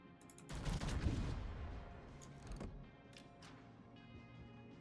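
Naval gunfire from ship guns aboard the USS Iowa battleship in World of Warships, a heavy rumbling salvo up front that decays into scattered distant cracks and pops, moderately loud.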